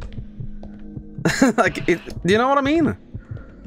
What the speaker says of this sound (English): I hate hearing heartbeats in anything.